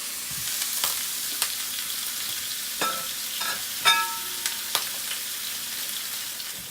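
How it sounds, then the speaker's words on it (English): Ground turkey frying in olive oil in a pan over medium-high heat gives a soft, even sizzle, with a few sharp clinks and scrapes of a utensil against the pan and no voices. "We're just going to add the ground turkey, and I have it on about a medium-high heat."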